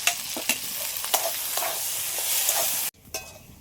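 A paste of ground jackfruit seeds, coconut and green chilli sizzles in an iron wok while a spatula stirs it in repeated scraping strokes, then the sizzle suddenly drops away near the end.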